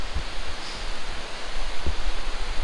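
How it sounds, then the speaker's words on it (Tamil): Jogini Falls waterfall in Ladakh roaring close by, a steady dense broadband wash of rushing water with no pauses, no voices over it. "இப்போ நம்ம ஜோகினி ஃபால்ஸுக்கு கிட்டே வந்தாச்சு. சத்தம் கேட்க ஆரம்பிச்சிருச்சு"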